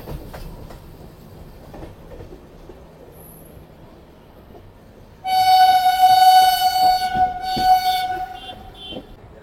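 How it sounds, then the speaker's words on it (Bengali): The Puri-Digha Samudra Kanya Express pulls into Khirai station with a low rumble, then a loud, sustained train horn blares for several seconds, sounding close. "আমাদের ট্রেন এখন ঢুকছে হচ্ছে খিরায়।"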